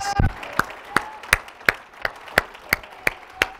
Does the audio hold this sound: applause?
yes